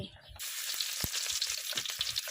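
Steady bright sizzling of garlic frying in hot oil, continuous and close, with a few soft clinks and stirring sounds underneath.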